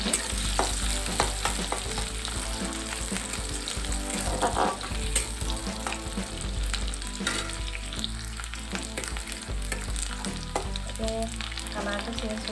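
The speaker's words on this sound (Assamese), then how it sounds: "ব্ৰাউন কালাৰ হোৱালৈকে ভাজি ল'ম।" Chopped onions sizzle and fry in hot oil, cooking toward brown for a drumstick curry, a steady close crackle with occasional stirring scrapes and no voices.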